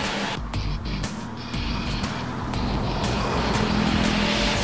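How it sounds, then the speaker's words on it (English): A lightweight car powered by a 750cc two-cylinder snowmobile engine drives along with a steady, buzzy drone and periodic clicks or gear changes, heard up close and alone. "it sounds very different because the engine, believe it or not, is from a snowmobile."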